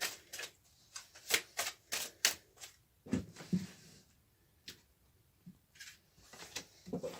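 Tarot cards being drawn and handled: a series of crisp, quiet flicks and slaps of card stock in quick clusters, then sparser soft shuffling and taps, close and faint with no voice over them.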